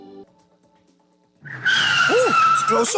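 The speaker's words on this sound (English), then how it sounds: "If you set people's teeth on edge every time you step on the brakes" Car brakes squeal and tires skid loudly in a radio ad, a sharp screeching burst with rising and falling squeal tones that cuts in abruptly after a quiet moment and holds to the end.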